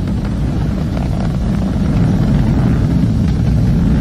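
A SpaceX Falcon 9 rocket carrying two astronauts climbs after liftoff with its engines throttled down ahead of maximum dynamic pressure, giving a steady, dense, loud roar with no pauses.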